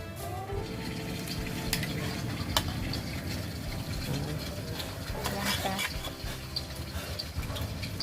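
Holy basil is stir-fried for pad kaprao, a continuous sizzle and scraping of the pan running beneath a person talking throughout.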